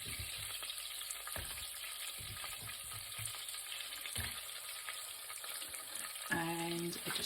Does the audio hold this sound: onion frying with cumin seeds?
yes